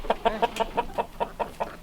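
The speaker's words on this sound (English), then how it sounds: "Look at those chickens." Rapid, rhythmic clucking from nearby chickens, about a dozen short calls in quick succession.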